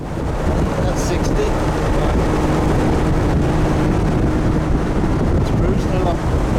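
A boat cruising along with steady, loud low engine rumble and wind buffeting throughout, a constant drone with a voice talking over it.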